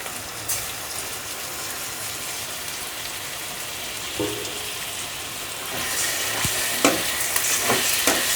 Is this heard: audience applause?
no